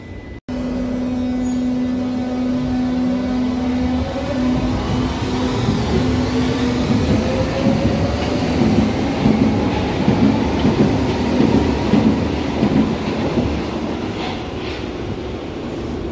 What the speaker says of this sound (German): Und jetzt haben wir nochmal einen schönen Orangenzug am Ende.